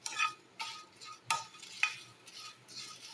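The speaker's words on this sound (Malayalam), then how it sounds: "നമുക്ക് വറുത്ത് പോരാം" Spices dry roasting in a pan for chicken masala, stirred with a utensil in several soft, separate scrapes and rattles with a faint sizzle between, close and quiet with no talk.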